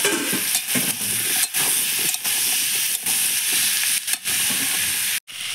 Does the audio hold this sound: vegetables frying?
yes